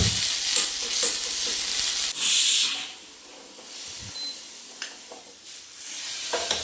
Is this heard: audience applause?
no